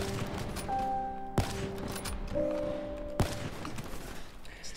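Locus sniper rifle fire in Black Ops 3: two sharp, booming shots about two seconds apart stand out over a busy mix of game tones and background effects.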